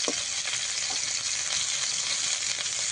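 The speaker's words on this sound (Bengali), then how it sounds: "আলু আর পটল ভাজা হয়ে গেছে।" Potato and pointed gourd pieces fry in oil, a dense, even sizzle that stays steady and close throughout with a few faint stirring knocks, no voices.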